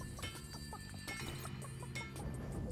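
A chicken in a video game clucks in a quick, irregular run of short calls, faint and steady in the background, with no talking over it.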